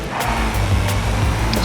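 A simulated car engine drones while drifting in the driving game BeamNG, a loud, steady low rumble with slight wavering pitch across a brief moment.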